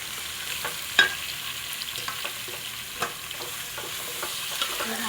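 A spoon stirs sliced large onions frying in a pan for a Kerala-style chicken curry, a steady soft sizzle under repeated scraping strokes and light clinks, close by.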